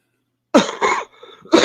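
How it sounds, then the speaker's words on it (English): Several harsh coughs from a person, a sharp burst followed by a second and a weaker trailing rasp, then another cough starting after a short pause, loud and close with no talk. "Cough, yeah, cough."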